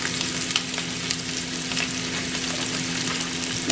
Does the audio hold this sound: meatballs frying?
yes